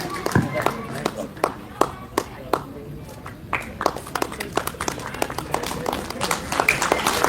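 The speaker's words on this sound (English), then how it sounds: "So a big round of applause for him." A small audience gives scattered, uneven applause for a young USA Under-19 cricket player, individual claps ringing out sparsely in a room, fairly soft, with some murmuring underneath.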